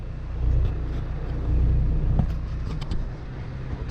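A semi truck rolls down the road, heard as a steady low engine and road rumble from inside the cab, with slight swells in loudness and no talking.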